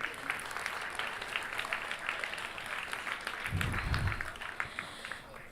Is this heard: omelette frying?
no